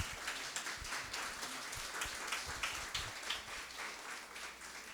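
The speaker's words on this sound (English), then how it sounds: "Again, a round of applause for our Beacon Boys." Applause for the Beacon Boys at a Pearl Harbor survivors meeting in Concord, a modest group clapping at moderate distance, fairly quiet and continuous for several seconds.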